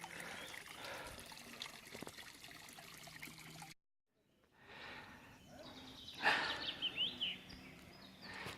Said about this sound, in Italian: Eccomi arrivato a una bella fonte dove ci si può riempire la borraccia di acqua.